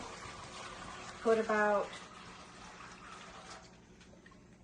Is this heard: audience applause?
no